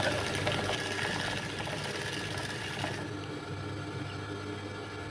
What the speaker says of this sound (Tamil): துணி இல்லாத இடத்துல இந்த மாதிரி குறுக்கு நெடுக்குமா தையல் போட்டுக்கலாம்